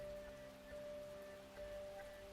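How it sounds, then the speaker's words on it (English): Rain falls steadily in an Arknights video game scene. The hiss is soft and constant, with faint tonal game music running underneath. "the rain falls heavier and heavier"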